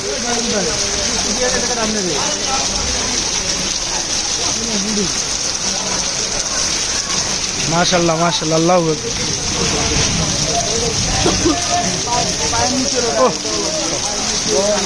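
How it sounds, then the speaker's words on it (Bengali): Heavy rain pours down in Tejgaon, Dhaka, as a loud, steady, even wash of noise. Someone talks throughout over the downpour. "সেই বৃষ্টি হইতেছে।"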